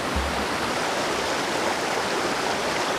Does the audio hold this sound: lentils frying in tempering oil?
no